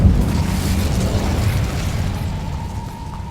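The Incendio fire spell cast in Hogwarts Legacy, a loud, sustained whooshing burst of flame with a low rumbling roar that gradually eases off.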